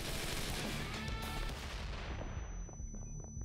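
Dense, sustained gunfire and booming blasts in the action game Wanted: Dead, a loud continuous barrage that thins toward the end, leaving scattered shots and a faint high tone.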